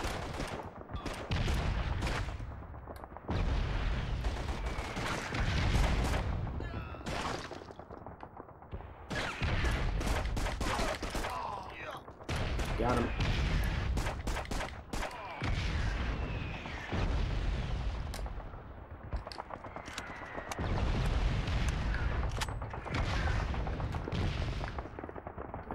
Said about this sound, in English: Suppress that machine gun!